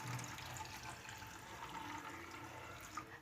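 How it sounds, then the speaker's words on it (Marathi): Hot water is poured into sago pearls in a kitchen while preparing a fasting snack, a soft continuous splashing trickle that runs steadily throughout, faint and close with no talking. "आता यामध्ये मी पाणी टाकून घेतलेलं आहे।"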